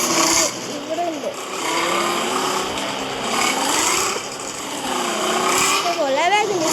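A motorbike engine in a 3D driving video game drones steadily and loudly throughout, with a voice talking over it.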